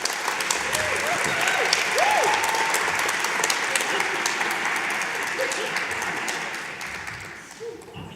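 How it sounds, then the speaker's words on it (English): A conference audience gives a full, sustained round of applause, dense clapping filling the room. Voices and cheers rise briefly inside it before the clapping slowly thins toward the end. "Boy, from the round of applause, we know who the popular one here is, Adam."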